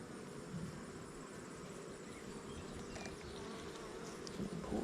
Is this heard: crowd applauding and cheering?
no